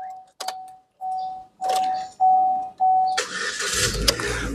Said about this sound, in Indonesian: Oke, kita coba start mobil ya.